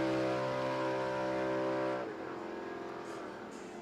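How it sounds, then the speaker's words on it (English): A loud Commodore drag race car engine holds high revs with a steady buzzing drone, then drops sharply in pitch about halfway through and settles into a lower, rougher idle. "lots of revs on board the Commodore"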